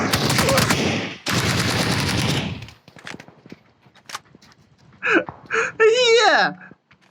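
Gunfire in the battle royale game PUBG: two long bursts of rapid automatic fire, loud and close, followed by scattered faint shots and then excited voices of players.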